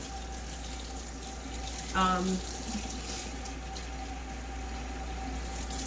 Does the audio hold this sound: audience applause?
no